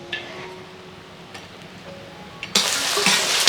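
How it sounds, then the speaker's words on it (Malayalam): Asafoetida lump frying in hot oil for pickle-making, a faint background hiss that suddenly swells into a loud, steady broadband sizzle for the final second, with no voices. "കായം വറുത്ത് കോരി എടുത്തു"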